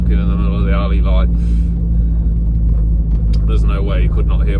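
A modified car's engine rumbles deep and loud and steady while driving down a narrow alley, with someone talking over the throaty drone for much of the moment.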